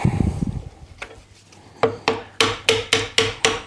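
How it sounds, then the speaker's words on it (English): A ball peen hammer strikes a wooden chisel handle to drive against a glued Festool Domino joint, first a few scattered knocks, then a steady run of sharp, close, evenly spaced blows. "Can't believe I'm using a pane hammer, ball peen hammer, and a wooden chisel handle."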